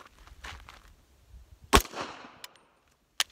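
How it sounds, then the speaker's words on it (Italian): Pistol shots ring out during a tap-rack-bang jam-clearing drill: one sharp, loud report in the middle, with a fainter crack near the end and light handling noise before it. "Io spero al primo colpo, che è quello corretto, dopodiché si incepperà, tap rack bang, e sparerò il terzo colpo."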